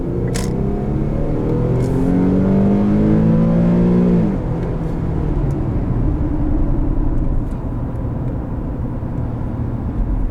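A 2014 Infiniti Q50 with a twin-turbo engine accelerates hard: loud rising engine tones climb through the gears, then drop away after a few seconds into a lower steady cabin rumble.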